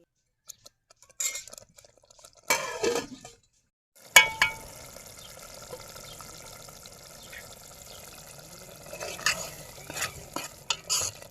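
Mutton curry gravy fries over a village wood-fired stove, with a faint, intermittent spoon scraping at first, then a continuous low sizzle and occasional clinks from the pot.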